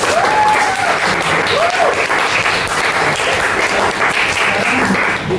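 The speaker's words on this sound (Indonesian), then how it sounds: "Maka sekali lagi kita berikan tepuk tangan untuk kelompok ini." A classroom of students gives a presenting group a round of applause, dense loud clapping filling the room without a break, with faint voices and a few brief vocal whoops mixed in.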